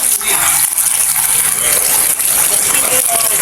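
Kangkong leaves rinsed under running water, a loud, continuous close-up gush and splash with faint rattling throughout.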